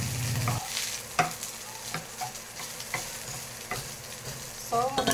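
Leftover rice sautéed and stirred in a pan used to cook tuna, with a steady close sizzle and repeated spatula scrapes and clinks.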